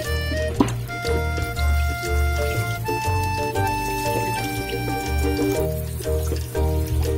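Water being poured out and trickling during a water change in a container of hatching eggs, with continuous liquid splashing and dribbling up close, while a steady low hum runs underneath.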